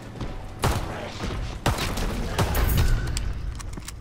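Gunfire in a WWII video game, with several sharp, loud shots and thuds spaced irregularly across a busy, noisy mix of in-game sound.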